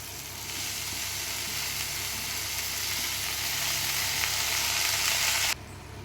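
Drumstick leaves hitting a hot pan of tomato and onion give off a steady, close sizzle that holds at one level for several seconds and then cuts off abruptly near the end.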